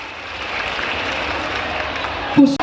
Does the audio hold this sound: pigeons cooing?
no